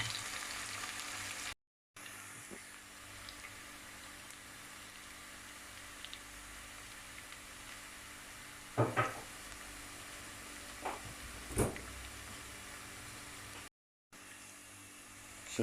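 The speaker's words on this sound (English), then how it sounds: "So we're just letting the onions cook down, and I just added 2 green chilies." Onions, garlic and green chilies fry in a pan with a faint continuous sizzle, broken by a few louder clinks and stirring knocks partway through and two brief gaps of silence.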